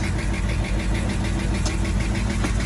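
A Bayliner 2050 SS boat engine runs steadily up close, a dense continuous mechanical drone with a light ticking lifter tap riding over it, no voices.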